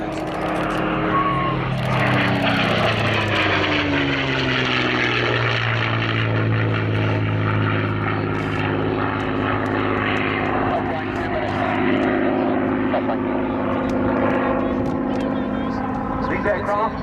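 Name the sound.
propeller Mustang fighter aircraft flying at Cosford airshow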